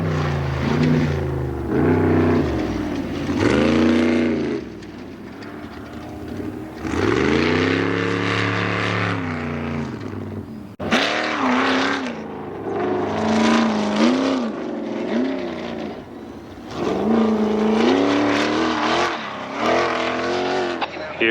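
Ultra 4 off-road race cars roaring past at a desert race in Lake Havasu, loud engines rising and falling in pitch in several passes, with brief lulls between them.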